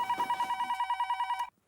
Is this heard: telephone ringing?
yes